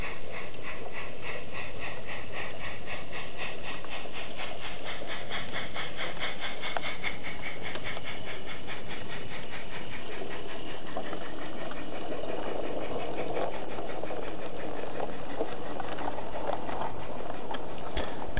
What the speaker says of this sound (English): Having got the all clear, the down goods can now depart.